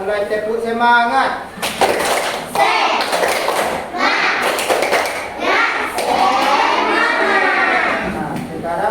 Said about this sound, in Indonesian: Sebelum kita mulai, tepuk semangat.